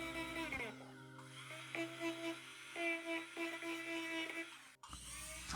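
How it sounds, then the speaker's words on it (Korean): A flap disc wheel grinds a metal part, likely a silver piece being shaped, giving a steady high whining buzz with pulsing tones that stops briefly and resumes, close and fairly loud. "사포바가 닿지 않는 부분은 해바라기 디스크 휠로 작업해줍니다."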